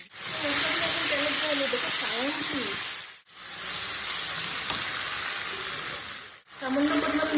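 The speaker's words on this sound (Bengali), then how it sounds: "এখন এটাতে মা একটু জিরা ফোড়ন দিয়ে দিয়েছে।" Cumin seeds tempering in hot oil give a loud continuous hiss and sizzle that surges in three long waves, with a faint voice now and then underneath.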